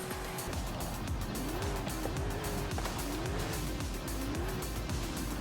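Engine of a 2020 Toyota GR Supra tuned to S1-900 with gears, racing on a road in Forza Horizon 5, droning steadily with rising and falling revs as it shifts, loud and continuous under a game soundtrack.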